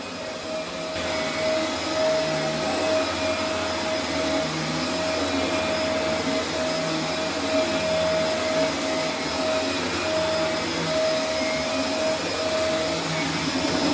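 A Dyson DC24 All Floors upright vacuum cleaner runs steadily on carpet, a loud continuous motor whine with a sustained high tone and airflow rush, holding level throughout with no talking.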